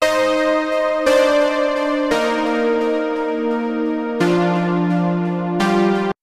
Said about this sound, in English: The effects include delay, reverb, compression, distortion, and hyperdimension.